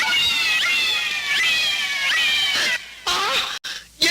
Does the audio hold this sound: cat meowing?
yes